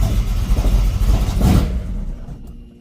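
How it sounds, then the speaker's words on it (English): Ford Falcon XB GS engine under throttle during tuning, a close rumbling rev that swells and then dies away as the engine stalls. "Give a bit of throttle."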